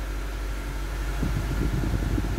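Honda CR-V car air conditioner switched on, its fan blowing as a steady broadband whoosh with low rumble, growing slightly rougher midway, close and continuous with no talking.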